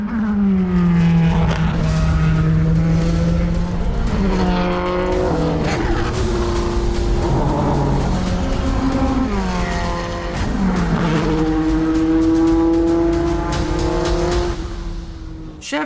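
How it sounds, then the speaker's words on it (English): A Chevrolet C8 Corvette race car with a 5.5L flat plane crank V8 revs hard and continuously, its loud, high-pitched engine note rising and falling through repeated throttle blips for about sixteen seconds. "when I first heard the C8 race car revving, I was shocked about it."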